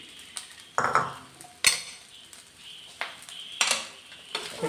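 A spoon scraping and clinking against a pan as chicken fried rice is stirred with lemon juice, in a few distinct clattering strokes over a faint background sizzle.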